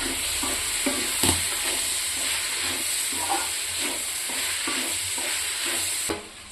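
Crushed spices stirred into Kerala nadan chicken curry in a sizzling pan, steady frying hiss with soft repeated scraping strokes of a spoon against the vessel, close and even throughout.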